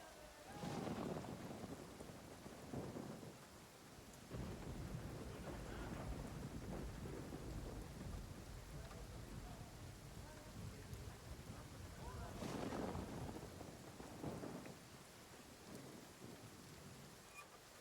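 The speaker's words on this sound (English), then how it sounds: "it's been raining all day now" Steady rain falling through a long stretch, a dense continuous hiss with a few louder swells that suggest distant thunder, faint and even throughout, with voices talking quietly underneath.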